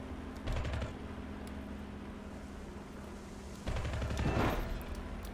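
Aircraft machine guns fire in War Thunder VR sim mode, two rapid rattling bursts over a steady engine drone, the second burst longer and louder.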